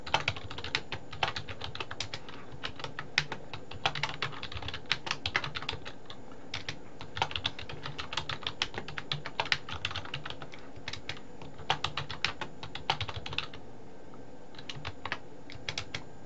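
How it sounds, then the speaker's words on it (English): Rapid, uneven keystrokes on a computer keyboard while a letter is typed, close and continuous with brief pauses, no voices. "We're going to type in a fake inside address, so I'm going to type my name."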